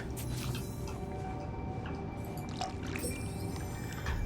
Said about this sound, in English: Let's plant this. Give it a little water.